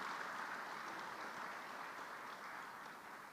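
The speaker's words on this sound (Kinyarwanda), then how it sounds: "tubahe amashyi menshi" Faint, steady applause in a Senate chamber after the bureau members sign their oath, a distant, even wash of clapping that fades slightly toward the end.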